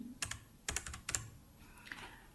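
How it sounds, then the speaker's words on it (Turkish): Keystrokes on a computer keyboard while editing a résumé in Word, a few distinct clicks in quick clusters, near and clear with no talk. "Klavyeden delete tuşuna basıyorum"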